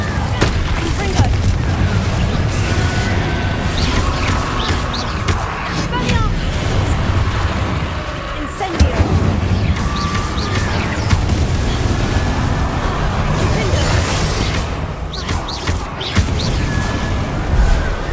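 A Confringo blasting spell goes off in the video game Hogwarts Legacy amid loud, continuous combat noise, with repeated heavy booms and crashing impacts layered over a dense rumble and occasional voices.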